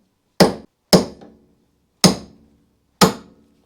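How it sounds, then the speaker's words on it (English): Four sharp metallic hammer taps drive a wheel stud out of the front hub of a turbocharged Mazda MX-5 Miata, each a crisp close strike with a short ringing decay, irregularly spaced with no talk. "tap the stud out."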